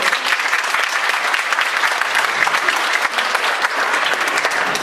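Seminar audience clapping steadily throughout, a dense, loud, sustained round of applause from a roomful of people with no talk over it.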